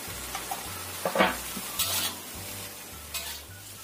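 Mustard greens with tomatoes stir-fried in a pan, giving a steady close sizzle under repeated scraping stirs of a utensil, with a low hum running underneath and no talking.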